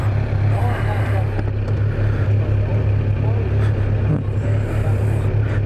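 A 2018 Kawasaki Z900 motorcycle engine runs at a steady, close, loud low rumble throughout, with wind buffeting the microphone and a person talking over it.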